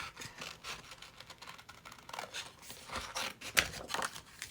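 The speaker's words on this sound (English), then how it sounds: "I'll use my fussy cut scissors." Small fussy-cut scissors snip through paper in short, quiet, irregular cuts, close up and faint, with no talking.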